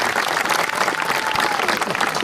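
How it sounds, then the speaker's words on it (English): An outdoor crowd at a War of 1812 battle reenactment at Fort Erie applauds the reenactors, a loud, steady burst of clapping that fills the whole moment. "please, a round of applause for all the reenactors who have come out this day"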